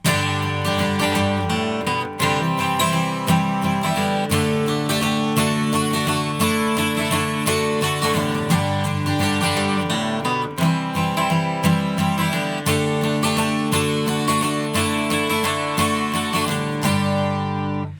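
Acoustic guitar strums the chorus of a song with full, steady chords and bass runs, played close and loud with no singing or talking.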